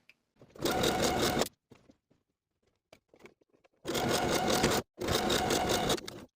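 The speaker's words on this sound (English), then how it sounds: "Then sew each of the cuffs in place with a 3/8 inch seam allowance" A sewing machine stitches hoodie cuffs in place at a 3/8 inch seam allowance, running in three loud, steady bursts separated by a quiet pause with faint handling noises.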